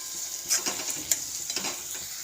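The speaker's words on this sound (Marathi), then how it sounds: "हळद आणि मीठ ॲड केलेले आहे आता छान एक मिनिटभर परतून घेऊया" Radish pieces sautéed in oil with turmeric and salt, a quiet steady sizzle broken by light stirring scrapes and clinks, close and fairly soft, no voices.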